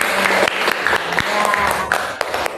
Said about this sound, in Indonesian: sebelumnya kita tepuk tangan buat kita